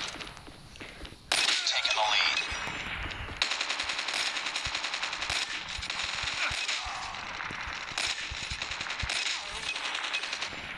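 Rapid automatic gunfire from Call of Duty multiplayer crackles in repeated close bursts, with footsteps and other game effects between them as a player talks over the action.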